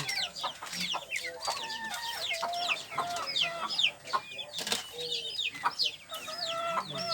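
Hens and a rooster cluck and chatter steadily on a small backyard poultry farm at egg-collecting time, with many overlapping calls near and far and no pause.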